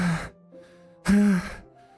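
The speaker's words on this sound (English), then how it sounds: "A sharp inhale, like someone is sucking the air through their teeth." In the Doki Doki Literature Club video game, two sharp, breathy inhales, like air sucked through the teeth, come close together, the second louder and longer, with near silence between them.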